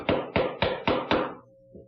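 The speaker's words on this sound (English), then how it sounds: "Now I'll just take a chisel and clean it out to the lines." A chisel is struck five times in steady succession while cleaning waste from a hand-cut wood joint back to the layout lines, each blow a close, crisp knock, ending with a faint trailing tap.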